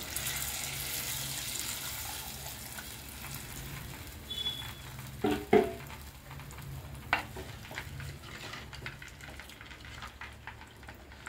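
Tamarind juice goes into a simmering Nellore-style fish curry, giving a soft, constant sizzle and bubbling, with a few sharp clinks and scrapes of a spoon stirring the pot.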